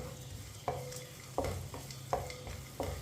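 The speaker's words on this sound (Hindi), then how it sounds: "इसे 2 मिनट के लिए चम्मच चलाते हुए भून लेंगे, पका लेंगे।" Sweet vermicelli roasts over low heat with cardamom, giving a soft steady sizzle while a spoon scrapes through it in four evenly spaced strokes.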